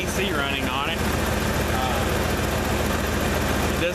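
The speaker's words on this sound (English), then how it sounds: "And we're sitting here with the AC running on it." Ford 302 V8 idling with the air conditioning running on an FS6 compressor, giving a steady, even low rumble with a rapid regular pulse throughout, close up and unbroken.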